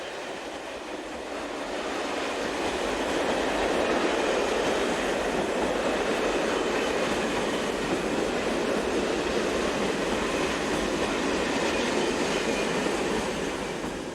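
A dual-voltage BB 22200 electric locomotive hauling a passenger train rolls in with a loud, steady roar and rumble of wheels on track, sustained and close throughout with no talking.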